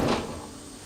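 Rear suicide door on an old 1942 car, an abandoned vehicle in a Texas ghost town, shuts with a single solid thud at the start, then fades into quiet outdoor ambience.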